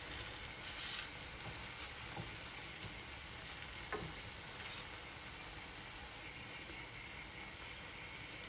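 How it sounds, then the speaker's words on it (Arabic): Eggs cook in a pan with tomato and olives, giving a faint, steady, even sizzle with few other sounds. "نخليو البيض يطيب"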